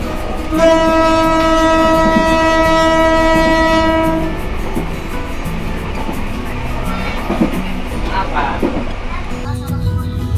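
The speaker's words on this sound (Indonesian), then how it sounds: "kita bakal bersilang dengan suatu kereta api ditarik double traksi BB203" A train hauled by two BB203 diesel locomotives in double traction blasts a long, loud horn for about four seconds, then rumbles and clatters past close by. A person talks over the noise.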